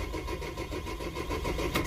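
A 2003 Nissan/Vauxhall/Opel 1.9 engine with a flashing engine light cranks steadily without catching, giving a continuous rhythmic churn close by with no voices.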